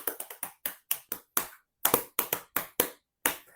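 Body percussion of hand claps and pats in a syncopated rhythm: about sixteen sharp, close, dry hits in uneven groups, with short pauses between them and no voices.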